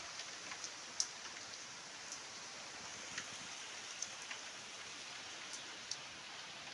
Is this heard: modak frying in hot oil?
no